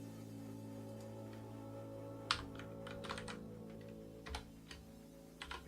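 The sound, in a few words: typing a git filter-branch command on a computer keyboard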